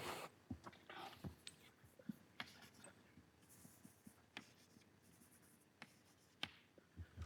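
Chalk or marker scratches and taps on a board during a lecture, a quiet irregular run of short strokes and clicks with faint room noise and no talk.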